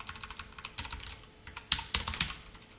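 Fingers tap quickly on a computer keyboard while code is typed, a close run of light irregular clicks with a few sharper key strikes, and no voices.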